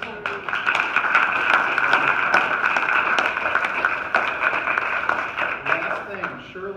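Congregation members at a church visioning workshop applaud for a presenter, a modest burst of clapping from a small group in a room, mixed with some voices.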